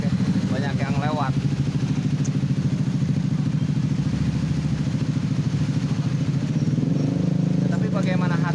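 Motorcycles and cars stream past on a busy road, a constant loud engine drone with rattling two-stroke clatter swelling and fading nearby, while someone talks over the traffic throughout.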